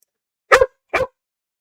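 A puppy gives two short, sharp barks in quick succession, close and loud against silence.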